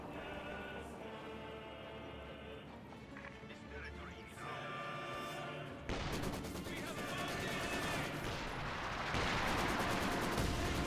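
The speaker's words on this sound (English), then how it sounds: "Ooh, great incendiary light barrage." Incendiary light artillery barrage in the real-time strategy game Company of Heroes 2, a dense run of rapid explosive bursts and crackling fire that grows louder and fuller halfway through, laid over steady battle noise and game music.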